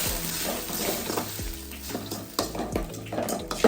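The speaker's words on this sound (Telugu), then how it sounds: "బాగా ఫ్రై చేసుకోవాలి." Onions frying with salt, chili powder and tomato ketchup for cauliflower 65, a steady close sizzle broken by the scraping and clinking of a spoon stirring in the pan.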